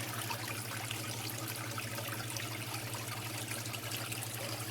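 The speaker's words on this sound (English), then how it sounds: "I can already see there's less splashing over there." Water splashes and trickles steadily from a waterfall in an aquarium tank set with moss, rocks and wood. A low pump-like hum runs underneath, with no talking.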